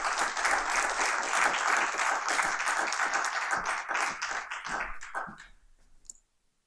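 An audience at a talk on the electoral gender gap applauds to welcome a speaker, a dense burst of many hands clapping near and steady, thinning out and fading to silence after about five seconds.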